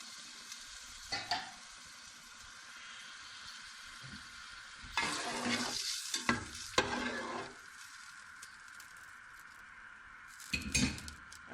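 A bowl of water poured into a pot of cooking masoor lentils gives a burst of hissing sizzle and splashing midway, with scattered stirring and clinks of a utensil before and after.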